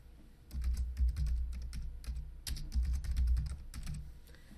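Typing a workspace name on a computer keyboard gives a quick run of close, crisp key clicks with a brief pause in the middle, over a low background hum.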